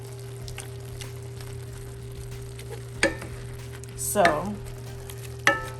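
Lean meat frying in a dry pan without oil while making chili, a steady low sizzle with a constant hum beneath, punctuated by a few sharp clinks and a brief louder scrape near the end.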